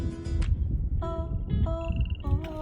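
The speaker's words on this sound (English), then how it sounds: "You hear the frog?" Frogs croak in a natural setting near a waterfall, with several short tonal calls repeating over a steady low background rumble and no voices.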